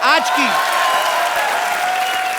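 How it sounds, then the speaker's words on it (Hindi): Studio audience applause on a Hindi comedy talk show set, a steady, dense wash of clapping that carries through the whole stretch at a loud level, with a brief voice fragment at the very start. "तो इसी के साथ जोरदार तालियां से शुक्रिया अदा करता है ऋतिक रोशन, आशुतोष और पूजा का।"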